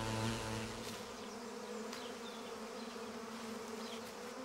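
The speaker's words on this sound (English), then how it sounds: "Either way, we exploit this swarm." A swarm of honeybees buzzes in a steady, dense drone that fills the whole stretch, with a few individual bees passing closer; no voices.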